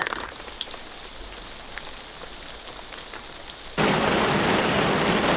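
Rain patters steadily, then abruptly becomes a much louder, dense downpour roar partway through.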